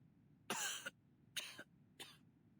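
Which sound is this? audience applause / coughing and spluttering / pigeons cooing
coughing and spluttering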